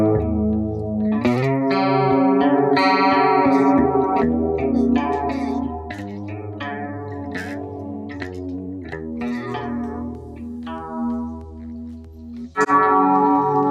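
An electric guitar plays a run of ringing notes and chords, with a shimmering, chorus-like tone and no voices.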